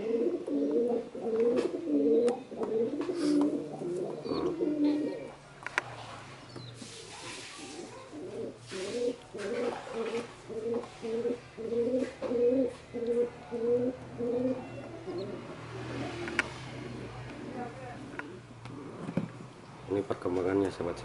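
Young pigeon squabs about 22 days old coo in a steady rhythmic series of soft, close calls, with a person speaking intermittently over them.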